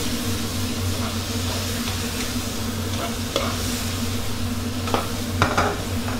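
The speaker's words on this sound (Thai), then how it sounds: "ก็ใบกะเพราครับใส่ลงไปเลยแล้วก็ผัดคลุกเคล้าให้เข้ากันครับ" Squid and holy basil stir-fry in a hot pan, with a steady low sizzle under scattered scrapes and clinks of a spatula against the metal, close and moderately quiet, without speech.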